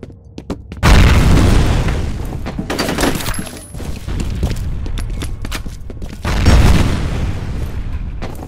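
Grenade explosions in the shooter game F.E.A.R. Combat, on the Docks map: loud booming blasts with a rumbling tail, mixed with rapid gunfire bursts, and a second heavy detonation near the end.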